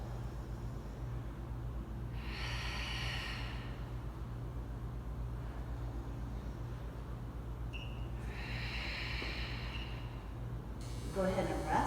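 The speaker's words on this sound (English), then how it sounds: "make sure you're squeezing your glutes, belly button into your spine, and we breathe. Inhale. Exhale." During a core workout plank, two audible breaths come through, a drawn-out inhale and a slow exhale several seconds apart, fairly close over a low steady hum.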